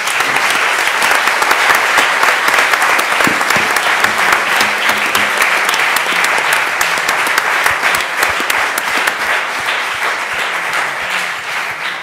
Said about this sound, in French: pour terminer, d'applaudir